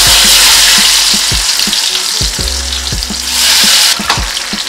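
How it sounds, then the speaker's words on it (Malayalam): Cashew nuts and raisins fry in oil for chicken biryani, giving a loud, steady sizzle with a bright hiss. Spoon clinks and scraping stir strokes recur at an irregular pace, and no one speaks. "ഇതേ എണ്ണയിലോട്ട് തന്നെ നമുക്ക് കുറച്ച് കാഷ്യൂനട്ടും മുന്തിരിയും വറുത്തെടുക്കാം"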